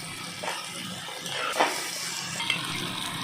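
Spices for a coconut prawn malai fry in a pan with a splash of water, a steady close sizzle broken by a few soft stirring scrapes, with no voices.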